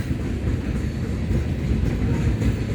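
A freight train rolls past in Fremont, Nebraska, a steady loud rumble of railcars with faint clickety-clack from the wheels, continuous and close throughout.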